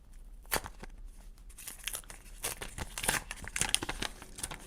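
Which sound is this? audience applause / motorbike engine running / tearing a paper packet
tearing a paper packet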